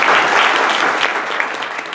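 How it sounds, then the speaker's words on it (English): An audience at a Parent University gathering breaks into steady, dense applause, loud and close, filling the whole moment before it begins to thin out. "I want to thank you all for being here and give you a big round of applause."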